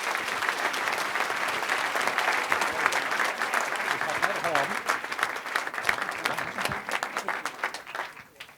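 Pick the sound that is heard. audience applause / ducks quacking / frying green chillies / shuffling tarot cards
audience applause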